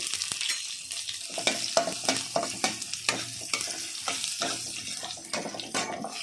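Buttermilk chillies crackle in hot oil with mustard seeds, cumin and urad dal, and a spoon stirs them in a quick scraping rhythm. The sizzle is close and pulsing, and no one talks.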